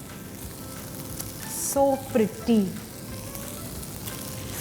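Egg masala sizzling on a tawa frying pan, a soft steady frying hiss running throughout, while a voice speaks briefly over it.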